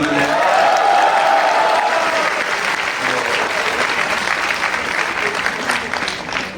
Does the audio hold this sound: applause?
yes